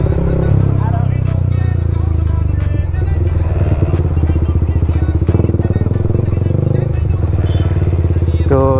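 A Pulsar NS200 motorcycle fitted with an Akrapovic exhaust rides at night near a mall, its loud, steady engine drone and exhaust rumble close and continuous, with a voice talking over it.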